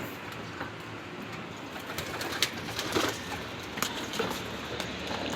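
Racing pigeons coo softly in a loft during summer training, low murmuring calls at a moderate distance, with scattered wing flutters and shuffling.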